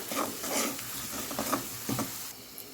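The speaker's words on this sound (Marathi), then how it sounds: "मसाला पण फ्राय व्हायला मसाला पण दोन तीन मिनिट कमी याच्यावरच भाजून घ्यायचा आहे" Spice masala for Maharashtrian egg curry frying in hot oil on low heat: a steady close sizzle with soft scraping stirs at irregular intervals.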